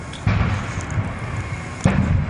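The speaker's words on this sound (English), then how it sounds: "Deep boom, ground shaking boom." Two deep, distant booms of exploding propane tanks at a business fire land about a second and a half apart, each rolling out over a constant low rumble.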